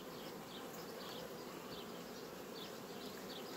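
Honeybees hum in a dense, continuous buzz around an opened hive during swarming season, steady and very faint throughout with no talking.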